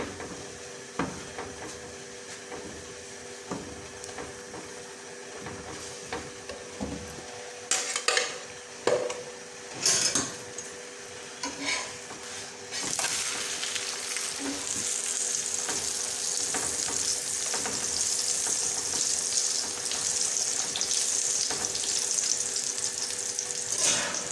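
An onion masala paratha fries in desi ghee on a griddle. It opens with quiet taps and scrapes of a spatula pressing and turning the bread, then a steady, louder sizzle builds and continues close up, with no speech.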